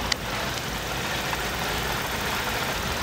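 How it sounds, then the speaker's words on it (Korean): Small compact car engine with about 30,000 km on it idling steadily with the bonnet open, a quiet, even hum heard up close at the engine bay with no talking. "엔진 소리 들었다시피 되게 조용해요"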